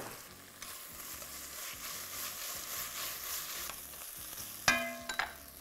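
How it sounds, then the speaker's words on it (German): Peppers and onions fry in oil in a pot with a steady broadband sizzle, then a sharp clatter near the end as something is stirred or set down. "Paprika und Zwiebeln in den Topf geben,"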